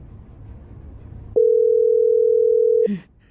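A telephone dial tone sounds as a call is placed, a single steady electronic tone lasting over a second after faint background noise, then cutting off with a short click.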